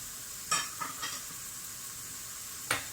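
Large cut pieces sauté in oil with a faint, steady sizzling hiss, and a few brief clinks of a utensil against the pan are heard close by.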